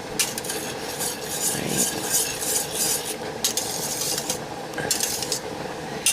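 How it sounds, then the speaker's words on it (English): Stirring blackberry juice in a pot with a utensil, a steady scraping and clinking of metal against the pot bottom, continuous and fairly close, with a soft background hiss and no talking. "And you keep stirring it."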